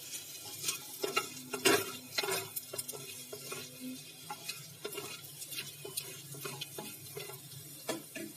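A spoon scrapes and stirs through hot oil in a pan as asafoetida goes in for a mutton and chickpea dish, with a soft, steady sizzle under irregular clinks and scrapes. No one speaks.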